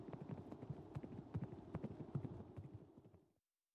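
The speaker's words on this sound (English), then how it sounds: "He laughed, got back into the saddle, spurred his horse and rode off." Rapid hoofbeats of a horse galloping on hard ground in a quick, rhythmic clatter, fading out as it moves away.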